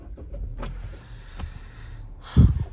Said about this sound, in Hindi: गाड़ी को कर लेते हैं ऑन।